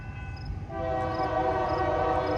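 Norfolk Southern freight train NS 278 approaches, a steady low rumble joined partway through by a sustained, loud multi-tone horn blast that holds to the end.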